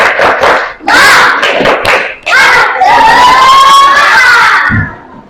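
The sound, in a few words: class of children doing a rhythmic spirit clap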